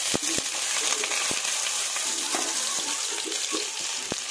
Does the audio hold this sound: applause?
no